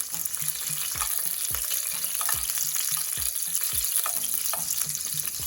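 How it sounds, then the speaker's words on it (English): Onions frying in a pan for Jamaican salt mackerel, a steady close sizzle with repeated scraping stirs and utensil taps against the pan, no voices. "I'm just gonna get the onions just a little bit translucent"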